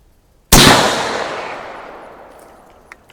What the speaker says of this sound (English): We'll shoot our top right target and see how that goes